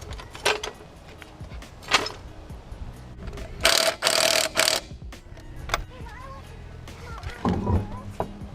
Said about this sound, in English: We're just gonna jack her up real quick.